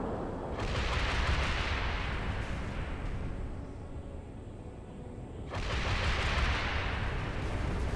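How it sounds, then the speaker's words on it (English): Hornet missiles fire from a Pelican vehicle in a Halo 3 mod, two long roaring volleys of launches with a rushing, rumbling blast, separated by a quieter lull. "Now the missiles."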